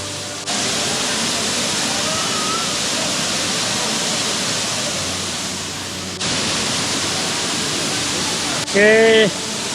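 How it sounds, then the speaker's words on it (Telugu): Hogenakkal Falls on the Kaveri river at the Karnataka–Tamil Nadu border, near a bathing area, gives a constant loud rushing roar of falling water, with a short voice breaking through near the end. "వాటర్ ఫాల్ పడుతూ క్లోజ్డ్గా ఆర్గనైజ్డ్గా ఉంది"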